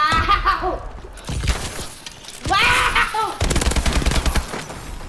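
Automatic gunfire from Call of Duty: Advanced Warfare gameplay, loud and close, in several rapid bursts mixed with laughing and excited voices.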